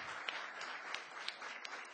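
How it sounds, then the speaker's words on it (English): Audience applause at a live comedy film podcast festival in LA, a steady dense wash of clapping with a few sharper claps standing out, close and continuous throughout. "Give them a round of applause."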